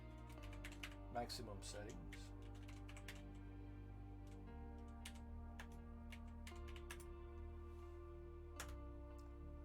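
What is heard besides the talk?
typing on a computer keyboard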